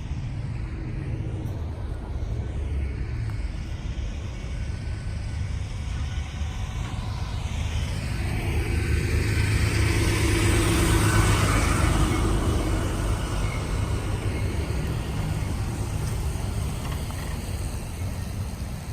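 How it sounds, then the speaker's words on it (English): A truck passes on a nearby road, its broad engine and tire rumble swelling to a peak midway and then fading, steady and fairly loud with no voices. "Here comes a truck."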